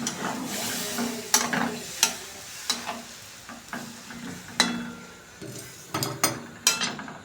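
Chicken cooks in a pan, sizzling steadily while a spoon stirs it, giving sharp, irregular scraping clacks every second or so, close and clear, with no voices.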